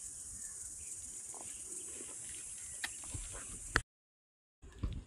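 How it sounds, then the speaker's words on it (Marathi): Cricket-like insects at Ghosalgad (Veergad) Fort near Roha in summer keep up a faint, continuous high chirring, broken by a brief gap of silence and a few soft handling knocks. "इतका उन्हाळा असून पण ते रातकिड्यांसारखे आवाज इकडे येत आहे."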